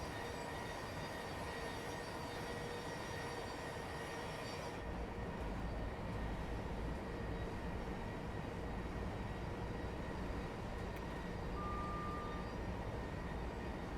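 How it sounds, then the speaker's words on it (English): A Class 700 electric train in Train Sim World 3 runs steadily along a straight line toward Gatwick, giving a continuous rumbling drone with a faint high whine that shifts partway through, no voices. "The straight run into Gatwick in our lovely liveried train."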